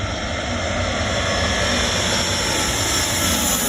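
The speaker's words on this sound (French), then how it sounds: "Nous avons vu l'avion passer au-dessus de notre tête." A steady, loud roar of an aircraft engine fills the whole stretch, broad and constant like a plane passing close overhead at a beach on Skiathos, Greece.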